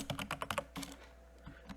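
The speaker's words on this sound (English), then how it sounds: "So if I'm typing on a Word document" Rapid typing on a computer keyboard while working in a Word document: a quick burst of close, crisp key clicks, then a pause and a few scattered taps.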